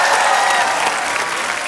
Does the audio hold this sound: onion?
no